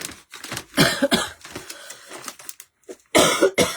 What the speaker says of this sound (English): I hate that this cough will not go away.